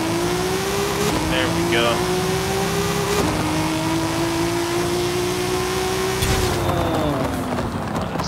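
A tuned Lexus LC 500 with anti-lag launching on a quarter-mile drag strip in Forza Horizon 5, its engine roaring loudly through a steady rising pull with brief shift breaks, while someone talks over it.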